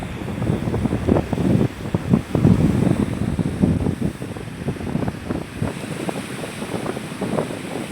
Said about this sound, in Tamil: கடற்கரை ஓரத்தில் இவ்வளோ காற்றா இருக்குது